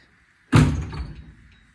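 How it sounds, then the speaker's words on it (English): A single solid car door thunk shuts close by on a 1971 VW, followed by a short fading rattle and then quiet. "The door's shut perfect."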